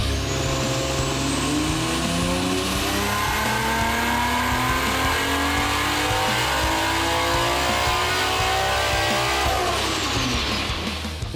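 A Nissan Skyline GT-R fitted with an RB30 engine roars on a hub dyno, one long, loud sweep climbing steadily in pitch through the revs before cutting back at the end, with no voices.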